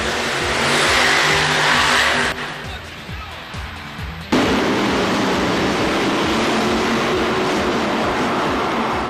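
A Hot Wheels monster truck roars through a freestyle run at a Monster Jam arena, its engine loud and continuous, dipping briefly midway before surging back at full power under crowd noise.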